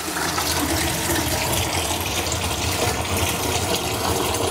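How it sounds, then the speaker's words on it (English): Water draining from an unscrewed pipe under a sink into a bucket, a steady, close gushing pour that continues throughout. "I put a bucket under the sink, unscrew this pipe, and then when I let the water out"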